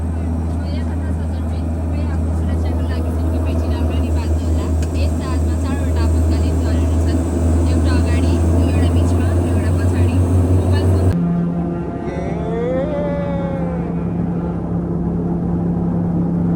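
Aircraft engine roaring at takeoff on a flight from Nepalganj to Simikot, a loud steady drone heard from inside the cabin that cuts off sharply partway through, leaving a quieter hum with a rising tone.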